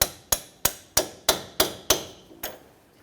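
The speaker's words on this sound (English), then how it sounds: "I'm gonna get my socket and my extension and just tap that bolt through" Sharp metallic taps as a socket on an extension is struck to drive a bolt through a Kia Sorento front lower ball joint, about eight evenly spaced ringing hits, close and loud, the last one softer.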